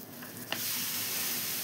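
Meat sizzles loudly in a hot pan after going in with tomatoes for a simple home-style curry, a steady broadband hiss swelling after a brief clatter of stirring.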